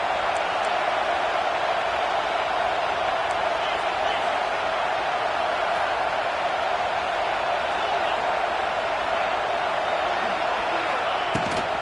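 Steady roar of a football stadium crowd during a week-one game, a dense, unbroken wash of noise that holds at a constant high level throughout.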